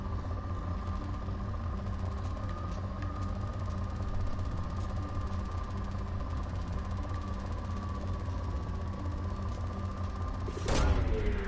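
Probe launch in Mass Effect 2: a steady low mechanical hum and whir runs throughout, then a sharp burst of launch sound near the end.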